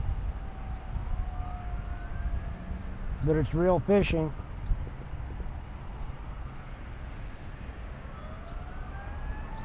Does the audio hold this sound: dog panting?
no